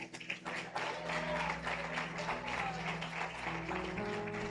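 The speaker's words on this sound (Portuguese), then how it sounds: "Aplauda o nome de Cristo." A church congregation applauds with scattered, uneven clapping under a low hum of background music, fairly faint and steady throughout.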